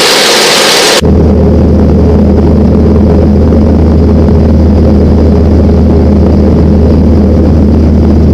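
A light Falcon LS aircraft drones steadily in flight, a loud, constant low engine and propeller roar filling the cabin with no change in pitch, heard alone with nobody talking.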